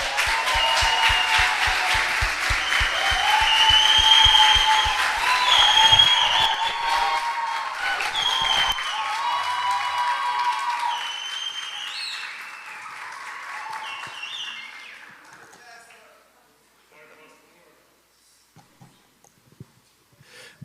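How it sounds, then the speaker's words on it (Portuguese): A church congregation in Jundiaí welcomes a pastor with loud, sustained applause over tonal background music. The clapping thins out and fades to near quiet by the end, leaving a few scattered sounds. "recebam com aplausos, a vida do pastor Maurício"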